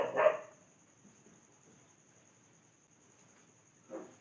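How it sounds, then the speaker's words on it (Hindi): Dogs barking in a street late at night: one short bark at the start and another about four seconds later, both somewhat distant, with a steady chirp of crickets between them. "भाई हमारे गली में कुत्ते भौंक रहे हैं"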